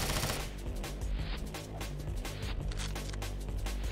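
Gunfire from a gun in the video game Madness: Sierra Nevada, a dense run of rapid shots that carries steadily through the whole stretch at close, loud level with no talk over it.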